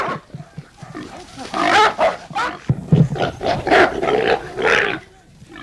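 Pack of hunting dogs baying and barking at a cornered wild hog, loud overlapping barks and yelps in a rapid, continuous chorus close by.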